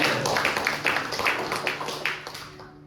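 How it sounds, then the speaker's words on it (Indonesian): A church congregation claps hands for God during a sermon, a loose, moderate patter of overlapping claps that gradually fades. "berikan tepuk tangan buat Tuhan"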